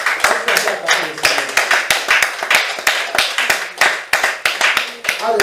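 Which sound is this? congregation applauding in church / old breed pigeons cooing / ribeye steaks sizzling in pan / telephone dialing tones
congregation applauding in church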